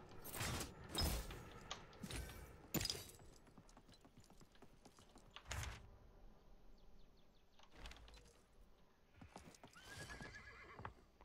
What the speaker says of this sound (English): I feel like the sounds they're using for the horse hoofs just sounds off to me